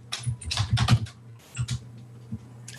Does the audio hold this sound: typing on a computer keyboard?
yes